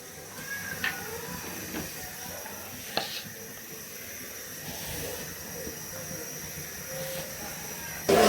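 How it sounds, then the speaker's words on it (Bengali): Cauliflower, carrot and potato frying in mustard oil give a continuous soft hiss with a few sharp clicks and pops, fairly quiet throughout, with faint background voices. "ফুলকপি, গাজর আর হচ্ছে আলু ভাজি করতেছি"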